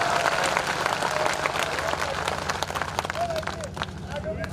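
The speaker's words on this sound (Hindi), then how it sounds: "जोरदार ताली बजा के केशव प्रसाद" Loud, sustained crowd applause and clapping at a BJP election rally in Udaipurwati, welcoming Uttar Pradesh's deputy chief minister Keshav Prasad Maurya, dense and steady throughout with a few whistles cutting through.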